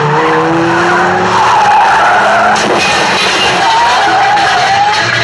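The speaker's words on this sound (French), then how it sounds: "Avec cette poursuite en voiture, Verneuil veut surpasser celle de Bullitt" Car tires screech loudly and continuously through a film car chase in Henri Verneuil's Le Casse, the squeal wavering in pitch with engine roar beneath.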